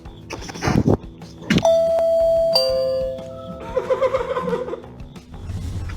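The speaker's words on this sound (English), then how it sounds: "This tenacious dog rang the doorbell when his owners wouldn't let him in." A dog rings a home doorbell, producing a clear electronic chime of two sustained tones, with brief rustling and knocking around it and faint laughter near the end.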